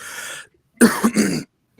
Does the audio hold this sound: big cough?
yes